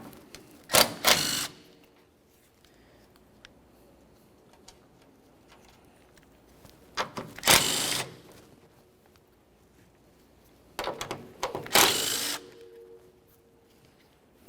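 A 14mm wrench loosening strut mount nuts on a 1994-1997 Honda Accord, three separate bursts of ratcheting clicks spaced several seconds apart, close by, with quiet shop ambience between.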